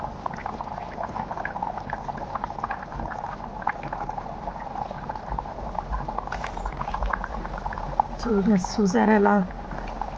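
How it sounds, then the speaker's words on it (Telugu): Goat head curry bubbles and simmers in a pot, a steady low boiling texture running throughout with a burst of livelier bubbling near the end, while a person talks over it. "కొత్త భలే ఉడుకుతుంది"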